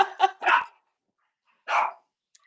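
Dogs bark nearby: three quick barks in a row, a pause, then another single bark and the start of one more at the end.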